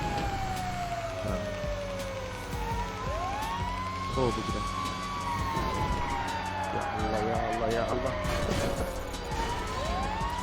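A police car siren in the GTA V video game wails in long rising and falling sweeps throughout, steady and prominent, as players talk excitedly over the game sound.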